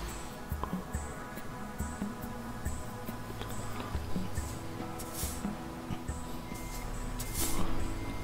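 A truck in Euro Truck Simulator 2 sounds its reversing alarm, a regular series of faint, evenly spaced beeps over a low engine rumble, with occasional hisses and clunks.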